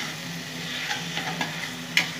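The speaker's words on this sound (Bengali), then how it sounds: "ভালো করে কষে নেব সব কিছু মশলা একসাথে।" Spices and tomato puree sizzle in hot oil in a pan while being stirred, a constant close frying hiss broken by light scraping of the spoon.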